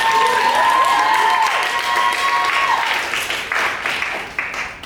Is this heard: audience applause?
yes